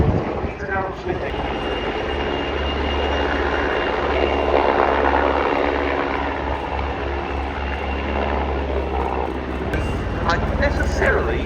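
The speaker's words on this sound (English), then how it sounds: "243rd Helicopter Squadron." Two Air Force helicopters of the 243rd Helicopter Squadron fly a display at the RIAT 2025 airshow, giving off a steady, loud rotor and engine drone that carries under announcer commentary.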